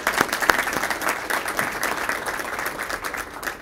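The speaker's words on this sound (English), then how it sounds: "let's give her a quick round of applause." Audience applause at an annual association meeting, a steady dense patter of many hands clapping throughout, fairly close and with no distinct speech.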